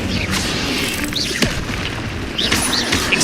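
A fire spell bursts in Hogwarts Legacy, giving a whooshing boom with crackling flare, followed by a second magical burst about a second later, loud and close with no talking.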